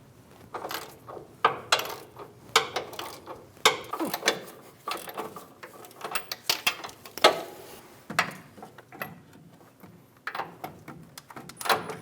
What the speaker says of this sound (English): Using the same 18mm socket and wrench, remove that second nut.